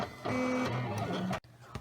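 A vinyl cutting machine cuts glow-in-the-dark heat transfer vinyl with a close, steady whirring motor whine that shifts in pitch as the blade moves, then stops abruptly and leaves a brief quiet.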